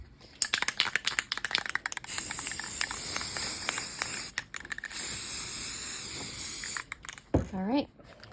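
Rapid rattling clicks of a shaken spray paint can give way to a long steady spray hiss, close by, indoors, with a brief pause and a short voice near the end.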